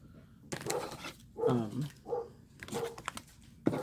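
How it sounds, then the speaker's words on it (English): A few muffled dog barks and whines spaced irregularly, faint and somewhat distant, with soft background clatter. "That's my dog. If you hear the barking"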